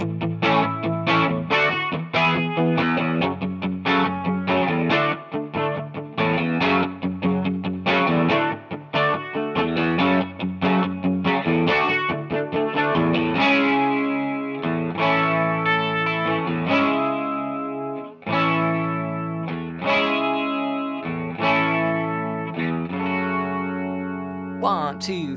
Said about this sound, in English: So here's the whole B section into that chorus, so you can hear it 1 time through.